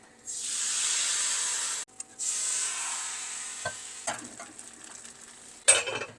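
Appam batter hits a hot pan with a sudden loud sizzle that hisses steadily, pauses briefly, then fades as utensils clink and scrape.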